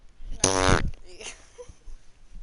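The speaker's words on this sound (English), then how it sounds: "That was a belly fart." A single short, loud belly fart bursts out and is followed by quieter background noise.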